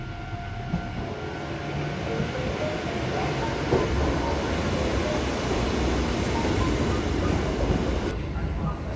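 An old Kotoden tram arrives at a station in Japan, rumbling steadily close by, a continuous mechanical roar with a high whine that cuts off near the end, no voices.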